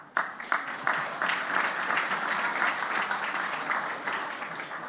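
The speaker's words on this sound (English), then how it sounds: "Normally I don't get applause at that line" An audience at a Canadian Club of Toronto luncheon breaks into applause, starting with a few scattered claps and swelling into steady, moderately distant clapping from the room.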